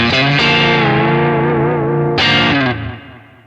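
A loud, sustained electric guitar chord through a Kemper profiler, pickup position five, with a distorted, chorused tone rings out, is struck again, then fades away.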